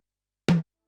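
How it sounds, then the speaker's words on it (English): A single 80s-style analog tom drum sample strikes once: a sharp, bright attack dropping into a short pitched low boom that decays quickly, clean and isolated against silence. "So we have a tom sound like this"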